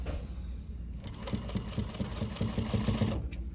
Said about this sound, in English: When this machine is sewing